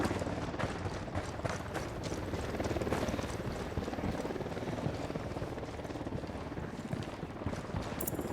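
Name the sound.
helicopter in Ghost Recon Wildlands video game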